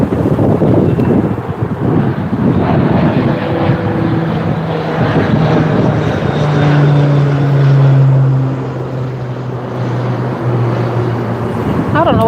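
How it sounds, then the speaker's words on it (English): A seaplane drones overhead, a steady low engine hum that swells to its loudest around the middle and then eases off, heard through heavy wind buffeting on the microphone. "I thought it was like a seaplane"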